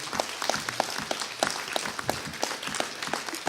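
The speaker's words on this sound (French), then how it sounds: "Sous vos applaudissements." Steady applause from a modest audience at an economic intelligence forum, a continuous patter of many hands clapping at moderate, somewhat distant level with a few sharper claps standing out.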